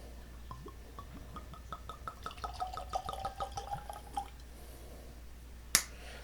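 2XO Phoenix Blend bourbon glugging from the bottle into a glass, a rhythmic series of close, hollow gurgles that rises in pitch as the glass fills, then stops, followed by a single sharp clink.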